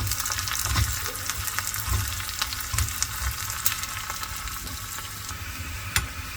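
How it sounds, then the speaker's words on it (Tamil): Curry leaves, cumin and fennel seeds fry in hot oil in a pan, giving a close, steady, dense sizzle with light stirring scrapes throughout. "இது எல்லாத்தையும் சேர்த்து நல்லா இதில் ஃப்ரை பண்ணிக்கோங்க"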